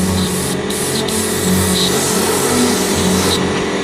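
An airbrush sprays acrylic paint in medium coats onto an RC model of a 1946 Dodge Power Wagon wrecker, giving a loud, close, continuous hiss that holds steady throughout with no voices.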